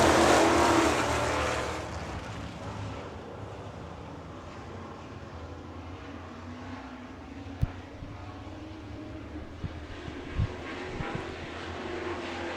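Super Trucks racing on a dirt track at Victory Lane Speedway in Manitoba, Canada, with a loud engine roar at the start. It fades to a steady, distant hum of engines, broken by a few sharp bangs.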